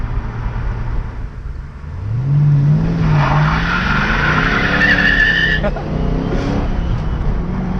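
A 1985 Corvette launches hard, its engine note rising steadily as the tires squeal loudly for several seconds, then the revs drop off with a lingering rumble close by.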